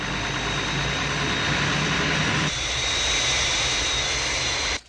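The Fireflash airliner from the Thunderbirds puppet series roars in on its runway approach, a loud steady jet-engine rumble whose tone shifts midway before cutting off abruptly at the end.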